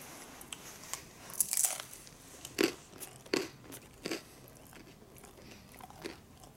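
Chewing on home-smoked lard with few teeth: a handful of close, crisp crunching bites spaced irregularly over a quiet background, with no talking.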